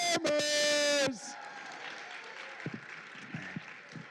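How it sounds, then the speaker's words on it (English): Applause from an audience at a school board of education meeting, following a student performance: loud music ends abruptly, then a thinner spread of clapping and crowd noise carries on under a few scattered voices. "Can I get another applause for our performers?"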